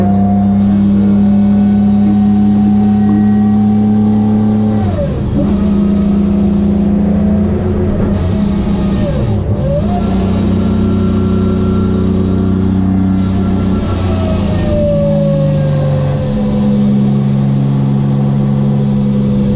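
A straight-six engined Mazda RX8 revs high on the track at Donington. Its steady engine note climbs and falls through gear changes, loud, close and continuous, with no voices.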